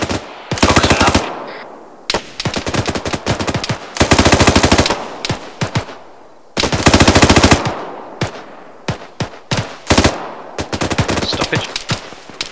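Light machine gun fire in the video game Arma 3, a military simulation coop mission, loud sustained automatic bursts of several seconds alternating with shorter strings of single shots and brief pauses, close and dominant.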